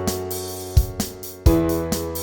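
A guitar backing track plays with bass notes and kick-like thumps landing in a steady beat, sustained chordal tones above and cymbal wash on each hit, close and loud.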